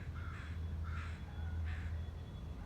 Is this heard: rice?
no